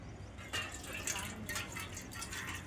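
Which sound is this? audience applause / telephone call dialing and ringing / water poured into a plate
water poured into a plate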